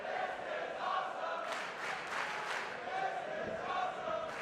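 A wrestling arena crowd roars and cheers steadily, swelling in the middle, with a commentator's voice faintly underneath.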